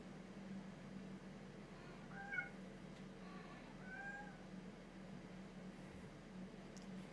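Several outdoor cats being fed meow a few times, faint and somewhat distant, over a low steady background hum.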